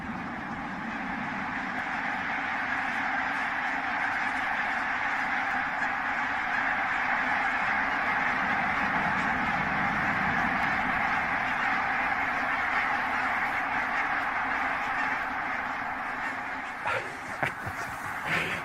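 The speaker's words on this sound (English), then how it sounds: "The drama of the birds taking flight in the early morning" A huge flock of geese takes flight in the early morning at Loch Gruinart on Islay, Scotland, a dense, continuous wash of honking and calling that stays steady and loud throughout, with faint flapping near the end.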